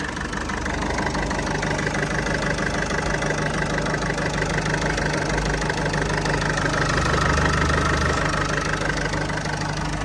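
A Peugeot 3008 with a 1.6 HDI diesel engine idling, a continuous close diesel clatter with an even, unchanging rumble throughout and no speech.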